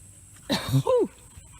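A single short, raspy throat clearing up close, ending in a brief rising wheezy tone, over quiet background.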